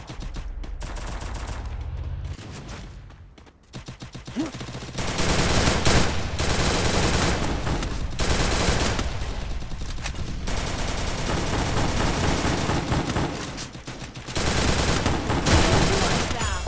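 Rapid bursts of gunfire from a video game match, dense automatic fire crackling loud in long stretches with brief pauses between volleys.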